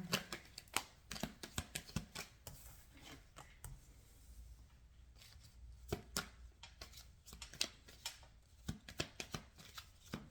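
Soft, close riffle-and-bridge shuffling of a deck of tarot cards in a quiet room, repeated brisk flutters broken by sharp taps, with no talking.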